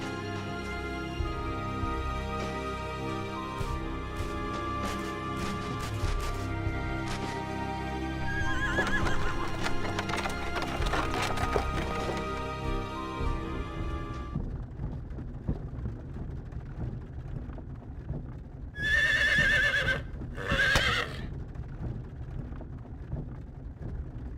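Horses neighing and whinnying as they pull a wagon in Star Ocean: Till the End of Time, with a couple of loud, distinct whinnies standing out over a steady backdrop of game music.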